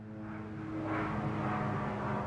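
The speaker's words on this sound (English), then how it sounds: "Hear that airplane?" Propeller airplane passing overhead: a steady, moderately faint engine drone with a sustained hum that swells slightly midway and holds, with no voices over it.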